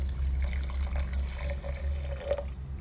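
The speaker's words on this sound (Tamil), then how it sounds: "அதுக்கப்புறம் 1 கிளாஸ் வந்து சுடு தண்ணி சேர்க்க போகிறேன்" Water pours into a pot in a steady, gentle trickle with a few faint drips, close by and fairly quiet.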